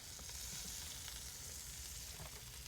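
Butter sizzles steadily on a Kamado Joe grill with potatoes, giving a dense, continuous crackling fry with no talk over it.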